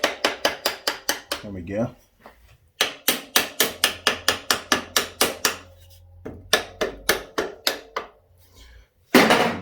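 Someone taps parts upward on a Honda CB750 K2 motorcycle's brake assembly, producing quick rhythmic metallic hammer taps in three fast runs with short pauses, then a brief spoken remark.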